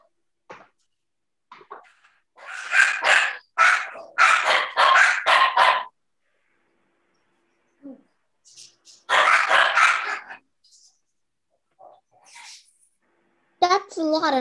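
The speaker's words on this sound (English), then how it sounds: "ask her to mute the puppies" Several bursts of high-pitched puppy barking and yapping come in clusters, with a short gap between them and a faint voice near the end.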